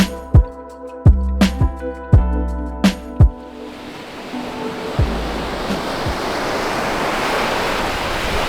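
Waves wash onto the small Playa del Malpaz beach in Benidorm at night, rising into a broad, steady surf roar after a few sharp knocks and thuds at the start.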